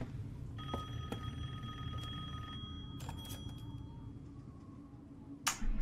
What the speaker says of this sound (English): Come on, pick up the phone!